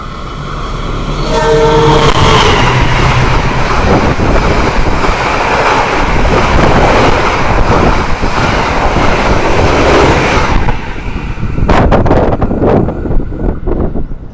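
A Taksaka express train runs fast, its loud, steady rumble and rushing wind filling the whole stretch, with tonal horn-like notes early on and a brief drop in noise before the clatter returns near the end.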